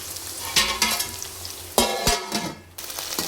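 Onions and green chillies fry in a pan, a loud sizzling hiss swelling in bursts as they are stirred, with a couple of spatula scrapes against the metal.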